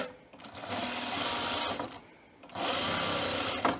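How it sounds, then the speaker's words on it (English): A sewing machine hemming the fabric ends of a tool belt runs in two close, steady bursts of rapid stitching, separated by a short pause. "We're going to hem the ends right here."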